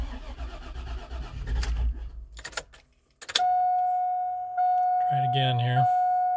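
An LS engine after a rebuild is cranked and tries to catch: a loud grinding starter burst, a brief pause, then another crank that fails to fire, followed by a steady electronic tone and a short muffled vocal sound.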